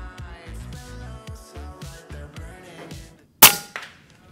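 A single loud, sharp pop from an FX Wildcat airgun firing a slug at a bird 49 meters away, bursting out suddenly after a short silence over background music and decaying quickly.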